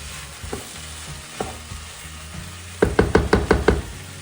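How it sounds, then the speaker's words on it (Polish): Lentil soup with curry and chili is stirred in a pot, a few isolated scrapes followed by a quick run of rhythmic spoon knocks against the pot, close and clear. "oczywiście mieszamy. Bo się przypali."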